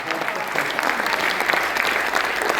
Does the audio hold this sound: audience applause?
yes